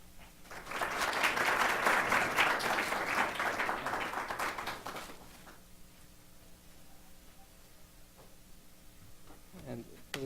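Audience applause at a medical education lecture, loud and dense for about five seconds before fading to quiet room murmur with a few faint clicks and shuffles.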